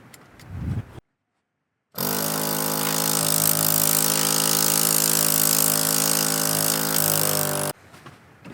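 A 12V air compressor runs at idle, a loud steady motor drone with a strong even buzz, starting after a brief silence and holding for about six seconds before cutting off.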